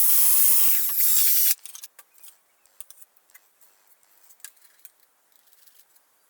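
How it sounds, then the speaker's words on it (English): A drill whirs loudly for about a second and a half, then stops, followed by light clicks and small handling taps. "Drill a hole in the bottom"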